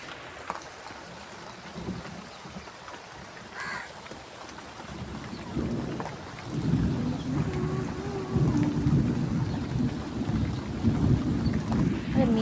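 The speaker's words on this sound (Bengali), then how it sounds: "মেঘ ডাকছে কীরকম" Rain falling steadily in stormy weather while deep thunder rumbles, starting faint and swelling into a louder, sustained low roll through the second half.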